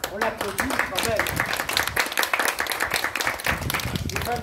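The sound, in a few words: audience applauding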